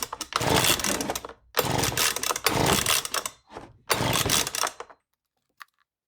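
A leaf blower's small two-stroke engine cranks over with the throttle held open for a compression check, in four loud rough bursts separated by short pauses, then quiet apart from a faint click.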